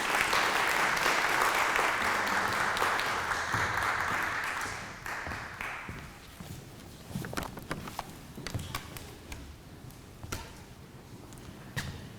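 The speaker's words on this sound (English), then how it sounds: "can we have a round of applause for Dr." An audience at a local history lunch talk applauds a speaker, a dense burst of clapping for about five seconds that thins into scattered individual claps before dying away.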